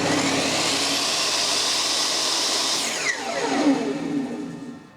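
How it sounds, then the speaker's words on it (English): Makita MLT100 table saw with a brushed motor running loud and steady, then braking to a stop partway through as its roar falls away, with no talk. "I'll turn it on just to show you how the blade slowly starts up and how it stops."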